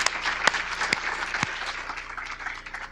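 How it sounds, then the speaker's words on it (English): An audience at a Minoru Yasui Day civil rights event applauds, a crowd of clapping hands with a few sharper claps standing out, loud at first and tapering slightly. "Let's give them a round of applause"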